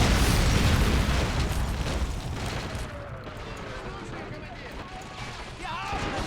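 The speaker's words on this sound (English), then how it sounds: "go ahead and throw AT grenades" Anti-tank grenade explosions in Men of War: Assault Squad 2 hit at the start as a loud, dense boom that fades into a rumbling tail, with lighter battle noise scattered after it.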